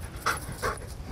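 A veteran police dog gives two brief, short barks or yelps over a low background rumble.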